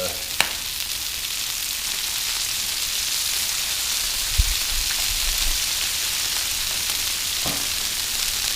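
Chicken wings frying in oil on a Blackstone griddle outdoors, a constant rain-like crackling sizzle with a few sharp pops, no talk.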